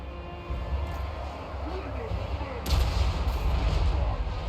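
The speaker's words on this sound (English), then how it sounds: "Those point-blank cannon shots have to be devastating." Heavy booming point-blank cannon fire in an Ogre Kingdoms video game battle rumbles over a dense low roar, with a louder blast midway and voices mixed in.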